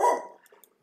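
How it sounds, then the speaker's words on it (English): A dog barks once or twice, fairly close and loud, then the sound fades into quieter background noise, heard during gameplay of RogueTech, a BattleTech mod. "Man, that dog is dumb."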